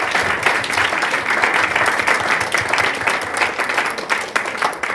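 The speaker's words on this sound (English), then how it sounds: "So big round of applause for these guys." An audience at a branding talk breaks into sustained applause, many hands clapping loudly and steadily for the full stretch with no speech over it.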